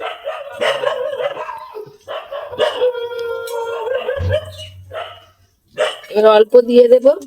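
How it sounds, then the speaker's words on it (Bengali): Street dogs barking outside, excited by a monkey, heard as a few short distant yelps and a brief low bark beneath someone speaking close by in a kitchen. "আর রাস্তায় কুকুর ডাকছে"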